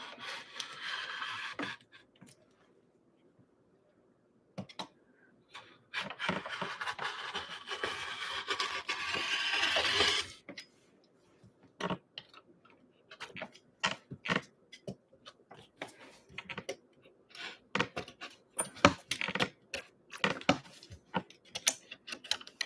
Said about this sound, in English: this rotary cutter sucks